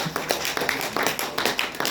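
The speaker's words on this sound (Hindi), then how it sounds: "जब तक लीडर स्टेज पर आएंगे आपकी तालियां बजती रहनी चाहिए।" An audience at a celebration event claps as a leader comes on stage, giving a few seconds of irregular, fairly sparse claps and taps close by, with no talking over it.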